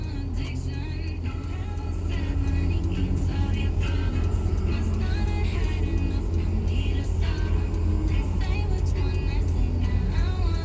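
Steady road traffic rumbles past a parked car, with cars whirring and revving by in a continuous wash of engine and tire noise that holds loud and close throughout.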